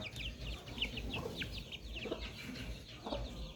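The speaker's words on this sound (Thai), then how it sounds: "ลูกไก่นะครับ" Baby chicks peep in a steady scatter of high, short cheeps, many birds calling at once at a moderate distance over a low rumbling background, with no one talking.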